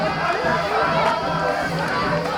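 A crowd at a club rugby match between Eagle Stars RFC and Jaguars RFC, with many voices chanting and singing together in a dense, continuous, lively roar.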